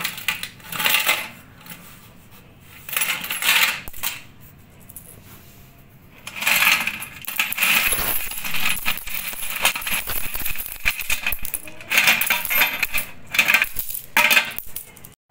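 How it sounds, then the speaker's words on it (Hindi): Coins spill from a homemade piggy bank (gullak), clinking and rattling in repeated bursts of metallic jingling over about fifteen seconds, loud and close with brief pauses between pours. "देखना कितने सारे सिक्के निकलते हैं।"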